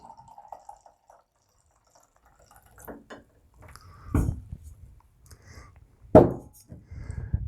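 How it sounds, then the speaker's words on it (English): Homemade raisin wine trickles from a bottle into a glass in a few short, close pours with soft splashes and drips, separated by quiet pauses. "Pouring the first glass."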